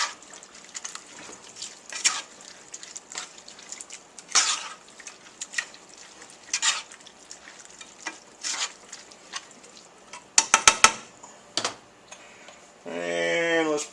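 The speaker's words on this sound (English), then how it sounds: "stir that together" A spoon stirs sour cream into hot dog soup in a pot, making soft, irregular scraping taps and faint liquid sloshing, with a brief cluster of clinks near the end.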